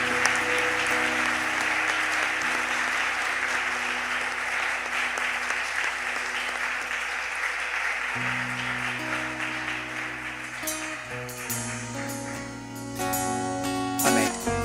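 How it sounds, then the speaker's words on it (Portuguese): A church congregation applauds steadily and loudly through a worship service, with sustained dense clapping and music or voices coming in near the end. "Você pode aplaudir o Senhor nessa manhã?"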